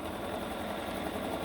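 Sewing machine stitching quilt block seams, a steady, fast mechanical whir with a low motor hum, continuous and moderately quiet, with no talking.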